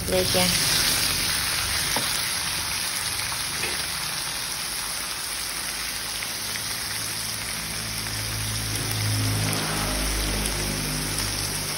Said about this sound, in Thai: เอาน้ำมันใส่กระทะแล้วเจียวหอมกระเทียมพริกไทย